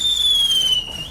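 A firework goes off outside, a sustained high whistling tone that slowly drops in pitch over a low rumble, lasting about a second.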